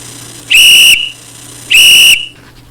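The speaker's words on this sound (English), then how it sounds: "Whistle to start the game." Two loud, shrill referee-style whistle blasts, each about half a second long and evenly spaced, signal kickoff in a Scratch-made soccer game, with nothing else heard besides a faint background hum.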